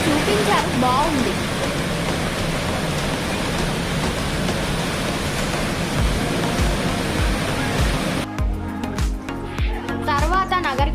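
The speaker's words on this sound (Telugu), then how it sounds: "ఇక్కడ ఏదో వాటర్ ఫాల్ చూపించారు" A waterfall near Kullu gives a steady, loud broadband rush of falling water that fills the whole stretch, changing texture near the end as other noises break in.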